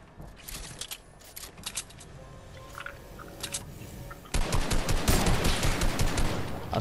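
Bursts of gunfire in a squad-based shooter video game: sparse, scattered shots at first, then a sudden loud, dense barrage of rapid overlapping fire that continues to the end.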